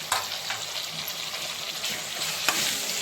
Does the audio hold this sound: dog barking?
no